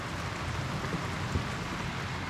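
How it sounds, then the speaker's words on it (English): Drizzling rain falling outside on a wet, grey day in the Philippines, a steady soft hiss of fine drops with no other sounds standing out. "it's raining out for sure. It's a drizzly day, wet day out"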